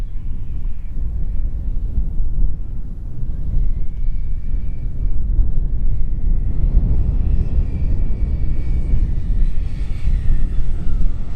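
Freewing F-4 RC model jet on landing approach with flaps down, a steady loud electric ducted-fan whine and rumble that holds throughout, with a faint tonal whistle rising toward the end.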